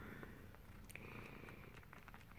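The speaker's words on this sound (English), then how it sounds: "She purrs the whole time" A cat purrs in a soft, continuous, rumbling drone close up while suckling on a nightgown, quiet and unbroken with no talking.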